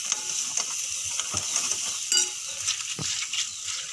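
Ground masala paste being stirred in a pan for a Konkan crab curry: soft scraping and light sizzling, with a few louder spoon knocks against the pan, close by and fairly quiet.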